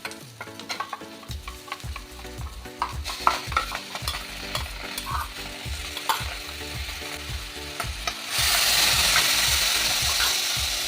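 Chana dal frying in a pan with soaked, mixed spice paste being added for a jackfruit curry, with steady stirring and scraping clatter over sizzling that swells into a louder, brighter hiss near the end when the liquid spice mix hits the hot oil.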